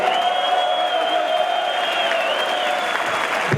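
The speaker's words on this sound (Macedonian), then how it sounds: "ве молам со аплауз" A room full of people at a formal meeting claps steadily in approval, a dense continuous wash of applause with a faint tonal hum behind it, lasting the whole stretch without a break.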